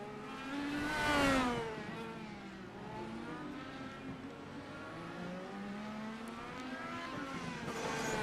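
IndyCar race car engine in iRacing, a high revving whine that swells as a car passes close, then several engines buzz on at a steady middle distance.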